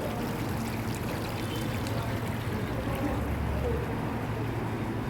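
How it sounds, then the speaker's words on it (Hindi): Water flowing steadily at a large decorative fountain outside a hotel and restaurant in China, a constant rushing, splashing wash with faint background sounds mixed in. "मैं पानी की आवाज़ सुनाती हूँ आपको।"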